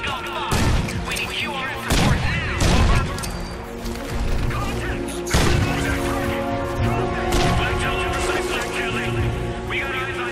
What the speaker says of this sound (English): We can take them out with a couple of grenades.